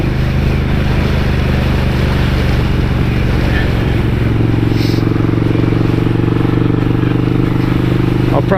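1999 Suzuki Intruder 800 motorcycle running: a loud, continuous engine rumble with a steady low throb that thickens and deepens partway through, heard close up with no clear talk.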